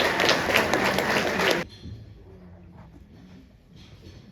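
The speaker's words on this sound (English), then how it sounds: "Please give them a round of applause." An audience at a JROTC awards ceremony gives a burst of applause that stops abruptly after about a second and a half, leaving quiet room tone with faint rustling.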